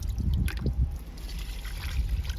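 Liquid fertilizer is poured onto a young papaya plant in a home garden. It makes a soft trickle and gurgle against a low background rumble.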